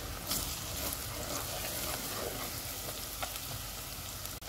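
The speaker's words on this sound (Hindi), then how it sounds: "इनमें अदरक और लहसुन का पेस्ट डालेंगे। इसको 1 मिनट तक भूनेंगे।" A dense, continuous sizzle of ginger garlic paste frying in a pan, loud and close, with faint scraping stirs and no talking.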